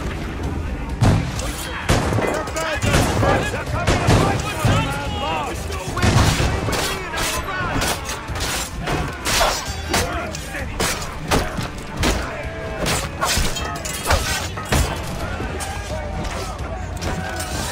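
Ship cannons fire in a naval ambush in the video game Assassin's Creed Rogue Remastered, a dense, loud barrage of booming shots and crashing impacts layered with battle noise and shouted voices throughout.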